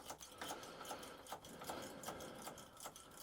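A lock tool worked repeatedly in and out of the door lock on a Mini R50, R52 or R53, giving close, quiet rapid metallic clicking and scraping that rattles along steadily without talk.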